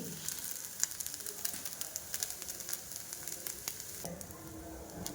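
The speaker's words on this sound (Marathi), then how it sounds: "आपल्याला दुसऱ्या बाजूने भाजून घ्यायचे आहे" A rice flour dosa fries on its second side in a pan, giving a steady, soft, crackly sizzle with small pops throughout.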